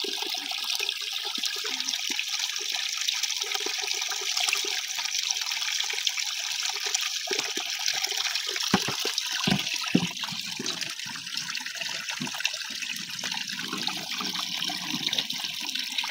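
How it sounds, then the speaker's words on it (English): Water running steadily while being purified for drinking, a continuous rushing flow with trickling and splashing that stays loud and close throughout, with a few brief knocks partway through. "purifying water so that we can get water for drinking here"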